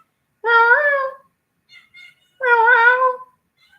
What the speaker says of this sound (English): Can you please stop meowing?